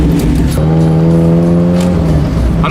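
A Mazda Miata drift car on new coilovers drives by loud and close, its engine note rising steadily as it revs through acceleration, with a strong harmonic tone holding under the rush before tailing off.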